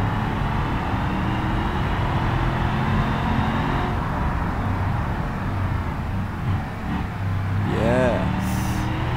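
Pickup truck engine in the BeamNG driving game drones steadily throughout, a low continuous rumble with shifting pitch and a brief rising whine near the end.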